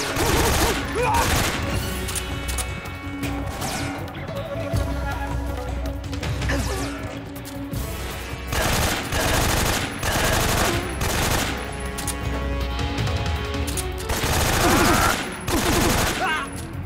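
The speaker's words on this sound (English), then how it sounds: "How do they die? LMG." Light machine gun fire in Metal Gear Solid 3: Snake Eater, long loud bursts of rapid shots with impacts and crashes, nearly continuous through the clip.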